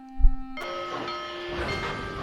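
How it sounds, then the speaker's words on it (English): A steam train on a railway at night, a brief thump and then a steady rolling rumble with tonal hums and a faint whistle-like pitch, no voices. "here's the last train for the night."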